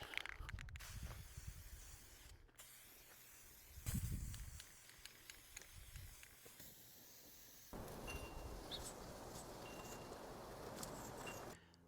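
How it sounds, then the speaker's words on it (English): Orange spray paint hissing from an aerosol can onto a pallet-wood turkey yard decoration's legs and feet, in steady broad bursts with brief pauses and a longer continuous spray toward the end, moderately quiet and close. "we're gonna spray his legs and his feet"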